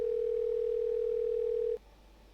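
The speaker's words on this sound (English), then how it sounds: "I hear my phone ring twice before being sent to voicemail" A single steady electronic phone tone on a call in the video game VTuber Connect, holding flat for nearly two seconds before cutting off abruptly into quiet.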